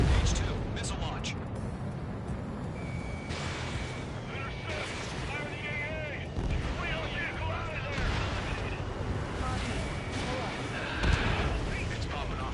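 A missile launch and explosions in the Ace Combat 7 video game during a strike on anti-air radar vehicles: steady booming blasts and rumbling fire fill the scene, under radio chatter and voices throughout.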